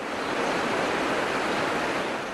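Water plunging more than 300 meters down a mountainside at the Mahipar hydroelectric plant in Afghanistan, a loud, dense and steady roar of falling water with no voices.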